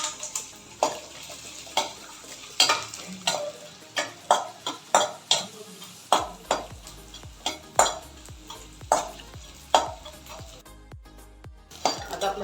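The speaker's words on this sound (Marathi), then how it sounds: "त्याच्यामध्ये हा डिंक थोडा थोडा करून तळून घ्यायचा आहे।" Edible gum (dink) frying in ghee in a pan, a soft steady sizzle under repeated sharp clinks and scrapes of a spoon stirring against the metal, spaced roughly every second.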